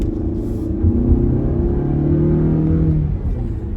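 Omoda C9 SUV engine accelerating in sport mode, heard from inside the cabin: a loud, low droning engine note with rising harmonic tones climbing steadily for about three seconds before easing off.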